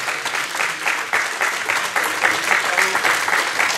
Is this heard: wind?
no